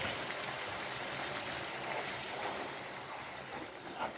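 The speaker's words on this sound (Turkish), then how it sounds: "Kaynatmış olduğumuz suyu da ekliyoruz." Boiled water pours into a pot of bulgur pilaf in a steady, continuous rushing stream, moderately quiet and fading slightly toward the end.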